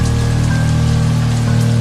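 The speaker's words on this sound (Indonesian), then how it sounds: "hujan nih" Steady rain falls as a dense, continuous hiss over a low, sustained hum, with no voices.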